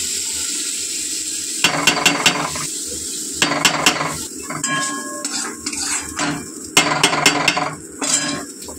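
Spices frying in a kadai for khichuri bhog during a Lakshmi puja, a soft sizzle beneath repeated metallic clatter and scraping of a spatula against the pan in bursts, close by, with no talking.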